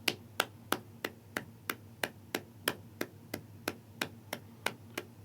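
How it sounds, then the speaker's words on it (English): Hands clapping a steady, even beat for a music lesson, about sixteen sharp claps at a regular pace, close and alone. "So how would we clap the rhythm for the top one?"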